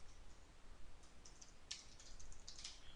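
Keys tapped on a computer keyboard while entering text into a Microsoft Excel 2013 spreadsheet cell, a faint, quiet run of scattered light clicks with no voice.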